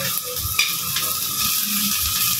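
Onions frying in a pan, a loud, dense, continuous sizzle with faint stirring scrapes underneath, close up and steady throughout.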